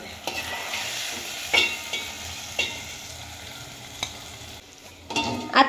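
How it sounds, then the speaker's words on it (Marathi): Onion, tomato, cashew, ginger and garlic frying together in a pan make a steady close hiss. A few sharp scrapes and taps of stirring break through at intervals, and no one speaks. "आता इथे आपले कांदा टोमॅटो काजू अद्रक लसूण हे छानपैकी असे फ्राय झालेले आहेत"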